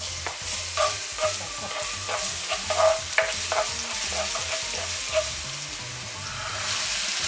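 Garlic frying in a generous pour of hot oil in a preheated pan, a steady close sizzle broken by repeated spatula scrapes and light taps against the pan.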